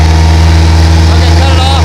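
A Bayliner motorboat engine in reverse runs loud and close with a steady low rumble, rising slightly in pitch near the end as it is given a little throttle.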